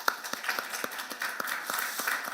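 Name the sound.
congregation applause in church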